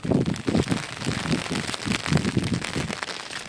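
Rain falls steadily in the flooded Ghed area of Kutch, a dense, even patter and wash of water sounding close and continuous.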